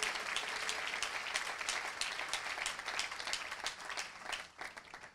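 A church congregation breaks into sustained applause for the Lord, a dense wash of many hands clapping steadily that fades slightly toward the end.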